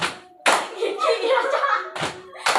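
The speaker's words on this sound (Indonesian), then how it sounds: "Tepuk paha dulu baru tepuk tangan biar lebih mudah" A group clapping game at a school group-counselling session, with players slapping their thighs and then clapping their hands. Sharp, close slaps and claps come in short bursts at the start and end, with talking carrying on between them.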